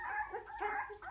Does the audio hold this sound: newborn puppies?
yes